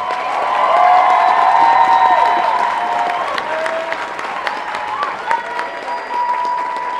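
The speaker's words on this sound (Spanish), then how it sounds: "quiero que le vuelvan a dar un fuerte aplauso al señor Osmar Perrones" Applause from a crowd at a Latin dance festival tribute in Reno fills the space with a steady, loud wash of clapping, plus some cheering and a few voices, that slowly thins toward the end.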